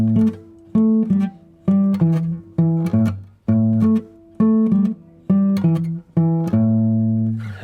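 Blues guitar four-note pattern in a shuffle rhythm, a steady sequence of short plucked double-stop pairs with a loping swing, clear and close, no talking.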